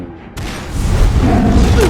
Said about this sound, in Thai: เสียงปืนรัวยิงดังสนั่น